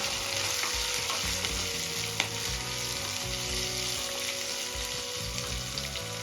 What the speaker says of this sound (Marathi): आता या स्टेजला कढीपत्ता ऍड करून घेऊया कढीपत्ता एकदा व्यवस्थित मिक्स करून घ्यायचा